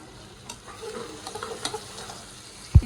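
Onions and ginger paste fry in a pan while being stirred with steady scraping strokes, with a soft sizzle beneath and a sharp knock of the utensil near the end; no one talks.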